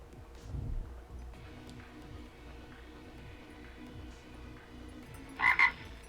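A frog croaks in the Pokémon TCG Live card game, two short, close croaks near the end over quiet, low game background sound.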